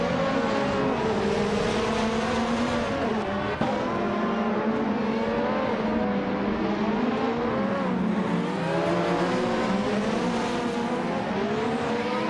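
Race cars from the 1988 Formula One season scream around the tight, technical Hungaroring circuit in a racing video game, their engines whining continuously and rising and falling in pitch through gear changes, loud and without talk.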